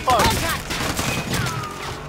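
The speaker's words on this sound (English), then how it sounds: "One's on the roof shooting at us." Rapid video game gunfire rattles in a dense burst during an ATV game, with shots coming from a rooftop shooter and excited voices talking over the noise.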